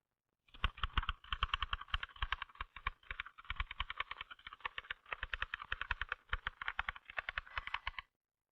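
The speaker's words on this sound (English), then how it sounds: "typing motions are confined to your fingers" Rapid typing on a typewriter keyboard: a dense, steady stream of sharp key clacks at close range, continuing without pause for about eight seconds with no voices.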